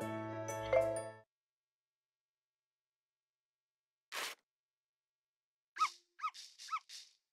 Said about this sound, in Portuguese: O cachorrinho.